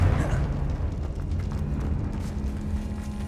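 A Confringo fire spell explosion in Hogwarts Legacy, a sustained rumbling blast with a low roar and crackle that fills the whole moment, loud and close.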